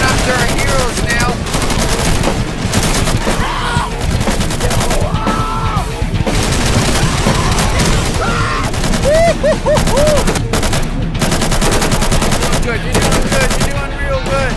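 Sustained machine gun bursts and rapid gunfire crackle without pause in a zombie video game battle at a navy base, dense and loud throughout, with a tank nearby and occasional yells mixed into the din.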